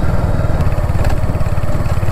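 Royal Enfield Hunter 350 motorcycle engine running loud and close, a steady low thumping idle with a fast regular pulse throughout and no talk over it.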